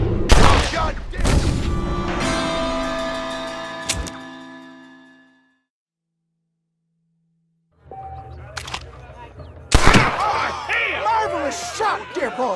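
Gunfire rings out in the Western video game Red Dead Redemption: a few loud, sharp shots spaced seconds apart, mixed with character voices and game music, then a brief silent gap.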